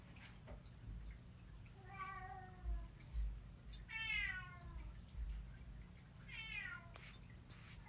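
A cat meows three times, drawn-out and plaintive calls spaced a couple of seconds apart over a quiet low hum.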